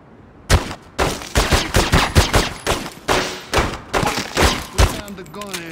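Rapid gunfire from a Godfather II video game shootout, a dozen or so loud sharp shots in quick irregular bursts, with a voice briefly audible near the end.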